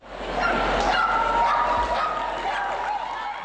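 Dogs yip and bark amid a noisy crowd at the American Kennel Club Dog Agility Championships in Sunbury, Ohio, where dogs weave through poles. The barks are scattered and moderately distant over continuous arena bustle, with faint voices.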